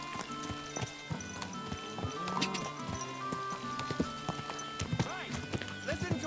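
Horse hooves clip-clop steadily in the medieval world of the game Kingdom Come: Deliverance II, with whinnies rising over the trotting and a voice talking throughout.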